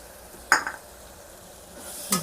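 Ginger garlic paste sautéing in a pan for vegetable biryani, with two brief spoon scrapes against the pan over a faint, low sizzle.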